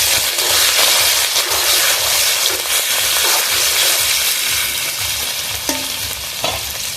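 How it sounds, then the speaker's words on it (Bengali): Shrimp dropped into hot oil in a wok, a loud, dense, continuous frying hiss that holds steady, with a couple of brief clinks near the end. "ওই কড়ার মধ্যেই তেল দিয়ে দিয়েছি। এবার আমি চিংড়ি মাছগুলো দিয়ে দেবো।"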